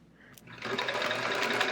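A sewing machine stitches in the ditch on a chevron quilt, the motor starting up after a faint click and running fast and close for about a second.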